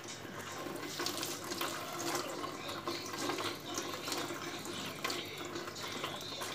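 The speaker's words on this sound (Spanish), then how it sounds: "acá está la canilla que se mueve. Bueno, ahora lo voy a limpiar" A kitchen faucet runs water steadily while the tap is being cleaned, a continuous close hiss and splatter with small scrubbing and handling noises and no talking.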